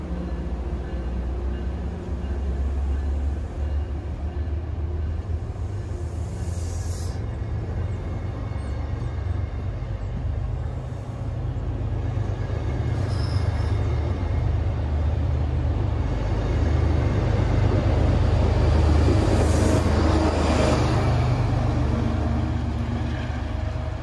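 An MBTA train in Metro Boston rumbles past with a steady low roar, wheels and motors droning continuously, swelling slightly louder toward the end, with faint high squeals over the rumble.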